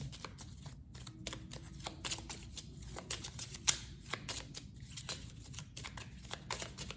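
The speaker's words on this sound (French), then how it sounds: "on reprenne peut-être quelques cartes, juste voir si on a 2 ou 3 cartes supplémentaires" Playing cards are drawn one after another from a deck, producing soft, repeated papery flicks and slides at an irregular pace against a quiet low hum.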